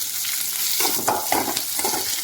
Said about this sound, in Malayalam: അതിലേക്ക് ഞാൻ ഈ എല്ലാ സാധനങ്ങളും ഒരുമിച്ചാണ് വറുത്തെടുക്കുന്നത്.